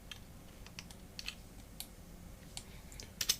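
Computer keyboard being typed on while editing props: faint, scattered key clicks at close range, with one slightly louder cluster near the end, and no voices.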